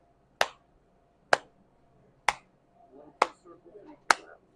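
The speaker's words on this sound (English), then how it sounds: "So I'm going to clap" Five single sharp hand claps land at an even, unhurried beat, each crisp and close with a quick decay into a quiet room; faint movement sounds fall between the later claps.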